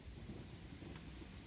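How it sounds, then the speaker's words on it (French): Rain and thunder sound effect plays faintly, a continuous hiss of rainfall over a low rolling thunder rumble, steady and distant with no voices. "Ça, c'est plate quand il pleut pis t'es un cowboy"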